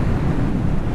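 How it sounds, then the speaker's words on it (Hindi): Fast-flowing river water rushing beside a mountain road on the way to Jalori Pass, a steady, loud, broadband roar with no pauses, tinged with wind. "और पानी देखो, पानी का फ्लो बहुत बहुत ही ज़्यादा तेज है"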